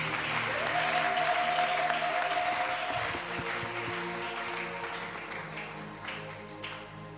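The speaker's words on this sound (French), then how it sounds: "Acclame très fort là où tu es." A church congregation applauds loudly during a worship service, a dense continuous wash of clapping that swells and then gradually tapers off, with a brief tonal tone early on and no talk over it.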